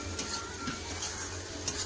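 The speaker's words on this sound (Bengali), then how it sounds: "এবার ভালো করে কষে নেবো।" Chicken with ground coriander, cumin and salt is stirred and fried in a pan, a soft continuous sizzle with faint spoon scrapes and light clinks against the metal, quiet and close.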